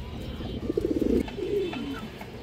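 A female pigeon in a cage gives a short run of soft, rhythmic cooing pulses, followed by a quieter trailing coo, heard close with no one speaking.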